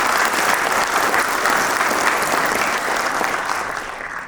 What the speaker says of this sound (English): Please give a round of applause for the instructors and staff of the St. Louis County Police Academy.